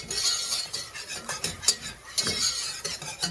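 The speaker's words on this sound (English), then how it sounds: "You just wanna cook your flour." Flour cooking for a cheese sauce is stirred in a pan, producing soft, repeated scraping and light clinks of a utensil against the pan over a faint sizzle, with no one speaking.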